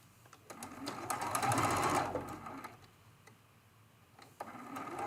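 A sewing machine stitching rows of a painted quilt runs in a steady whirring, rattling burst of about a second, stops, then starts again softly near the end, heard close up in a quiet room.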